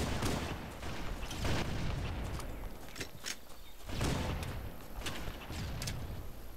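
Sniper rifle shots in the video game Halo, several sharp booming cracks spread irregularly across a dense, noisy game mix with no talk.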